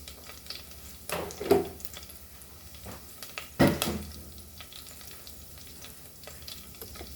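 Cumin seeds, mustard seeds and green chilies sizzling in hot oil for a Goan taro leaf bhaji, a soft steady crackle broken by two louder bursts of spattering and stirring.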